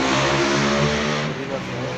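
A 9hp 186FAE diesel mini tiller engine with self starter runs with its clutch engaged, a loud, steady, close mechanical drone with a slight drop in pitch partway through.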